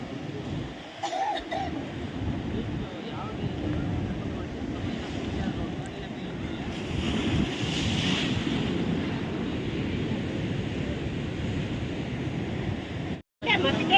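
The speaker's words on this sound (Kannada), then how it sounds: "ನೋಡಿ, ಇದು ಸಮುದ್ರ." Sea waves and steady wind buffeting the microphone on a coast beside a temple at Dwarka, a continuous loud rushing roar close by, with a sharp dropout near the end.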